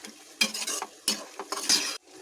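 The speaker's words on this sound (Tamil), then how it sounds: "அரைச்சி வச்ச பேஸ்ட்டை போட்டுட்டு இதையுமே கொஞ்சம் நல்லா மிக்ஸ் பண்ணிக்கோங்க" A spoon stirs ground paste into a pot of chicken feet and gizzard gravy in three scraping, clattering strokes against the pan, close and clear with short pauses between.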